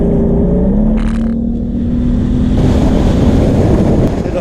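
A motorboat engine throttles up to bring the boat onto plane, a loud continuous drone with a rising tone, mixed with wind buffeting and rushing water, no talking.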